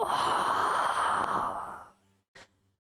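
A voice imitates a faint gasping breath, a long airy exhale that tapers off, followed by one short soft intake.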